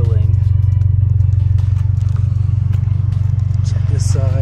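A 2022 Subaru WRX fitted with an Invidia R400 catback exhaust sits idling close by, a steady loud low-pitched burble with an even pulsing rhythm running throughout.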